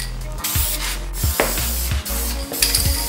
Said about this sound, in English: I'm just gonna spray it just like if I was spraying the project again with paint